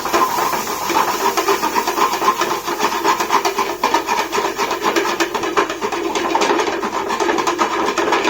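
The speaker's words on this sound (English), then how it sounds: "Now we mix." Burnt garlic Szechuan Hakka noodles being tossed and mixed, with a loud, continuous scraping and rasping of utensil against pan running steadily throughout, close and alone without talk.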